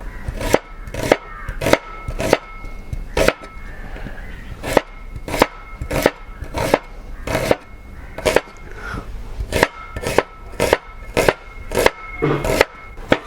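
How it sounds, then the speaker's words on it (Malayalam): A knife chops onions on a cutting board in a rapid, uneven series of sharp, close knocks, sometimes in quick bursts and sometimes spaced out. "ഇനി നമുക്കൊരു 5 സവാള കട്ട് ചെയ്തെടുക്കണം."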